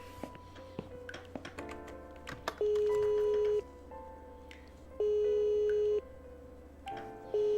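In the video game The Cat Lady, a bell-like electronic tone rings in three long, steady bursts separated by pauses, over quiet clicks and a low background hum.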